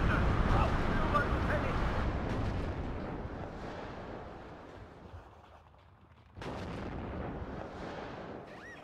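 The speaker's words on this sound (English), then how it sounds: "he really wants to use the artillery as much as possible" Artillery fire in a tank video game comes through as booming, rumbling blasts that fade into a low wash, then a sharp new report, all fairly quiet in the mix.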